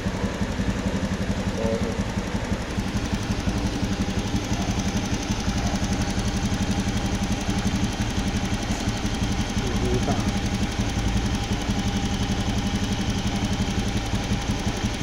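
A Honda Beat scooter engine idles at low RPM with a continuous, close, steady putter and a fast pulsing throb. It runs evenly and alone for the whole stretch.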